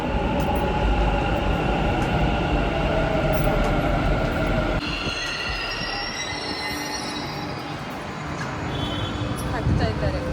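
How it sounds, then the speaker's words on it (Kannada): Metro train pulling into a station, a loud rolling rumble with squealing wheels that settles as it slows, while people talk nearby. "ಟ್ರೈನ್ ಬಂತು ಅನಿಸ್ತದೆ"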